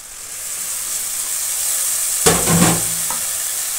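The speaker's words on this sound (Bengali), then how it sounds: "আমি আবারও সুন্দর করে মশলাটা কষিয়ে নেব।" A masala of turmeric, chilli, cumin and coriander powders with a splash of water sautés in a pan for a silver carp and cauliflower dish, with a soft steady hiss broken midway by a loud burst of stirring and sizzling.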